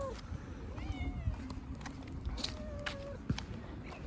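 A sick cat meows several times on the street, faint and a little distant, over low rustling and scattered footsteps.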